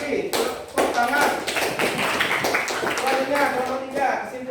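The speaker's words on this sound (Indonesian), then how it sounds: "Tepuk tangan" Classroom applause after a group presentation, a run of close, distinct hand claps from a small group, fairly loud and irregular, with voices speaking over it.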